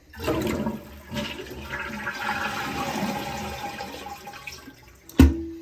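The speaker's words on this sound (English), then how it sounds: "Step 2, flush the toilet." A home toilet whose water supply has been shut off is flushed, giving a close rushing swirl that drains and fades over several seconds, ending with a sharp clunk.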